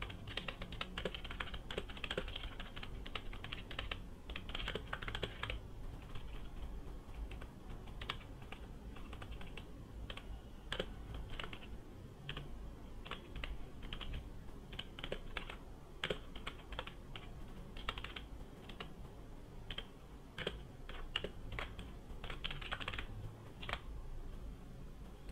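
Fingers type on a computer keyboard in a quiet room, a continuous run of light, irregular key clicks with short pauses, steady and close, with no talk.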